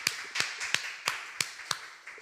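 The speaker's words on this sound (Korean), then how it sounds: "우리 하나님께 영광의 박수 올려드리겠습니다" Congregation clapping in a Korean church worship service, a steady rhythm of sharp claps about three per second for a couple of seconds, fairly faint and with no talking over it.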